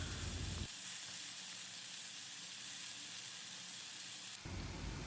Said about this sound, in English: on medium to high flame we will stir fry the mushrooms until the mushrooms releases its moisture